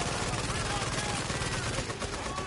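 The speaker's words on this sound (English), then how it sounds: "Now the other one's shooting at us." Dense, continuous rapid gunfire from enemies in the video game The Division, loud bursts of automatic fire crackling without pause.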